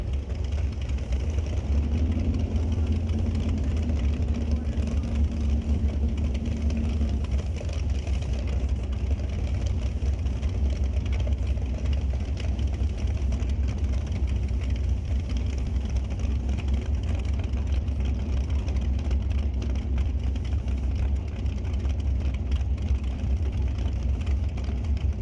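Nitrous-fed drag racing engines, one a 598-cubic-inch combo, idle at the start line of a Mission Raceway Park ET series race, a steady deep rumble running continuously and loud.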